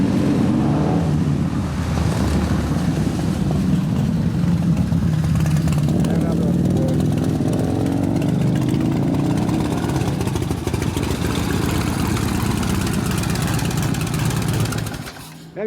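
A Harley-Davidson Shovelhead big-bore stroker motorcycle engine rumbles loud and close in a steady, deep, lumpy drone that holds for most of the stretch before cutting off near the end, with voices talking over it.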